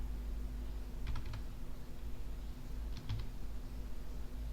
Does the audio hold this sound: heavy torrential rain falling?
no